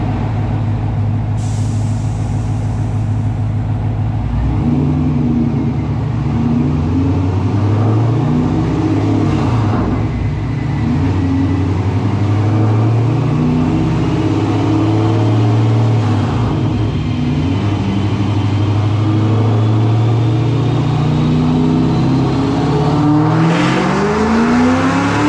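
A 2006 Pontiac GTO's engine roars on a dyno, loud and sustained with repeated climbing rev sweeps and brief dips between gears, with no talking over it.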